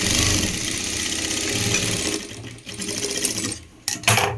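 A sewing machine stitching a blouse runs in a fast, steady whir close by for about two seconds, then slows into shorter bursts with brief pauses and a final quick run.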